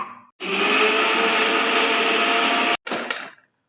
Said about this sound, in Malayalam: അരച്ചെടുക്കട്ടെ ഒന്ന് അപ്പോൾ നമ്മുടെ തേങ്ങ ഏകദേശം ചതഞ്ഞു വന്നിട്ടുണ്ടേ